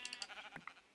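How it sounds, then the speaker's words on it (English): A sheep in the video game Minecraft bleats in a quick burst of short wavering calls followed by a longer bleat, faint and alone with no talking. "Where are you, sheep? I just saw you before."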